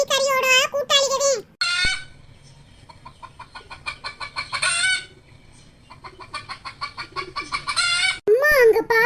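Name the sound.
chicken clucking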